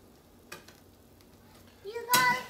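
An egg cracked onto a hot cast iron griddle, a soft steady sizzle that swells into a louder crackling burst near the end, with a couple of light taps of a utensil against the metal.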